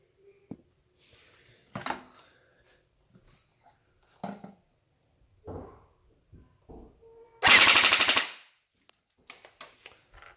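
An M16 gel blaster fires a loud, rapid burst of shots over a chronograph, a dense rattling volley lasting about a second, with sparse handling clicks and small noises before and after.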